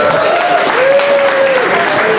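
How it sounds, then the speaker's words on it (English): A crowd applauds a band at an event, a loud, continuous wash of clapping filling the whole stretch, with a faint steady tone running underneath. "Let's give them another massive round of applause."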